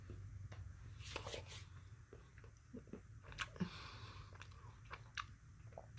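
Close, crisp chewing of frozen Reese's Pieces, hard chilled candy shells crunching in irregular bursts of bites and grinding, quiet between crunches, with no talking.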